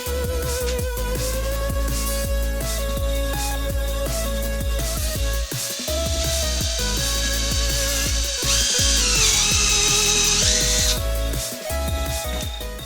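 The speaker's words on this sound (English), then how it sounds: "Drill through into a piece of wood, because otherwise you might chip out the other side." A power drill whirs steadily, rising in pitch as it bites through micarta knife-handle material into wood, with a continuous grinding buzz that stays loud and close throughout.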